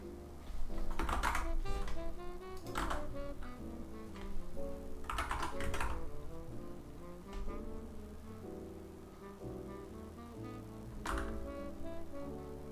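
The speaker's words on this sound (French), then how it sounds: "je peux pas vraiment réduire le bruit du clavier" Irregular bursts of keyboard typing, clicks clustered in quick runs, over a sustained tonal background.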